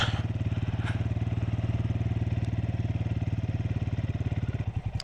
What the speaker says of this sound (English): Got an awesome motorcycle.